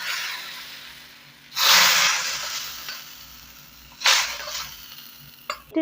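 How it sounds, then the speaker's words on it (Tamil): Hot tempering is tipped into brinjal and drumstick sambar, setting off two loud bursts of sizzling hiss that flare up and then fade, heard close over a quiet kitchen background. "இப்போது தாளித்து கொட்டிக்கலாம்"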